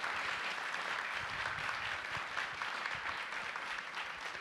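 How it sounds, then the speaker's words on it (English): An audience applauds steadily, many hands clapping together in a dense, even patter that holds for several seconds. "I'd love to give our guests a round of applause."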